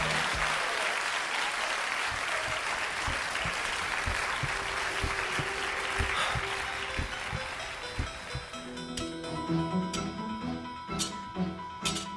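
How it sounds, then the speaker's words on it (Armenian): A festival audience at the Golden Autumn 2016 event in Hrazdan applauds a dance ensemble coming on stage: dense, sustained clapping that gradually thins, with tones of music starting in near the end. "եկեք ջերմ ծափողջուներով դիմավորենք Ֆենիքս Պարային համույթին"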